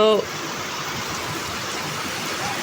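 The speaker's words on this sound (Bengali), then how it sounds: "কিন্তু মাগরিবের টাইমে এই বৃষ্টিটা হচ্ছে।" Rain falls at dusk in a steady, even hiss, the first rain of the year, continuous and moderately close after a brief voice at the very start.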